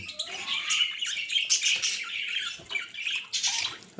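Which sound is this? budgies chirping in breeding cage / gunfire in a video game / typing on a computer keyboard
budgies chirping in breeding cage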